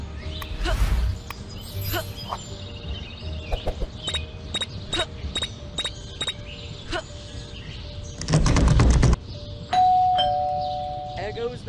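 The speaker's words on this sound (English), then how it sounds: "Stupid bell again." Doorbell in the Scary Teacher 3D mobile game, a series of short bright chimes rung repeatedly in an irregular rhythm, interrupted by a loud burst of noise and a sustained tone near the end.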